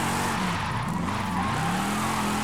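A modified El Camino drifts in Forza Horizon 5, its engine droning steadily and loud while the tires squeal continuously throughout.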